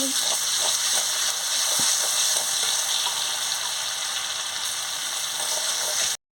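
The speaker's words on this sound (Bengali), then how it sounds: "এবারে তেলটা গরম হয়ে গেছে, রসুন বাটাটা দিয়ে দিচ্ছি।" Garlic paste fries in hot oil, a steady close sizzle and hiss running evenly throughout, with faint stirring clicks and no talk, then cutting off abruptly.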